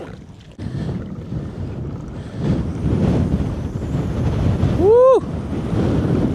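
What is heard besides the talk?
wind gusts on a lake while kayak fishing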